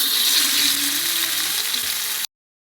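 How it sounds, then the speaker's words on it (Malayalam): Fish frying in a pan in a home kitchen, a steady close hiss of sizzling oil that holds evenly for about two seconds and then cuts off abruptly. "അപ്പം ഇനി മീൻ പൊരിക്കാൻ മാത്രമേ ഉള്ളേനും."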